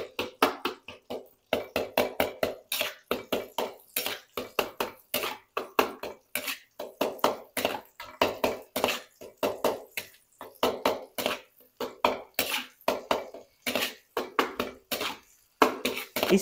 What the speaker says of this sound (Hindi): अब हम चम्मच इस तरह से चलाएंगे।